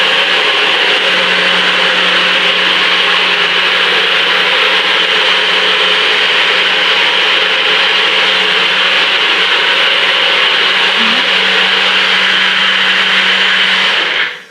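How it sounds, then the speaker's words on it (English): Stick blender whisking a smoothie, a loud, steady whirring drone that runs continuously for about fourteen seconds before cutting off, with no talking. "you got your stick blender ready. And basically all you're going to do is whisk it up"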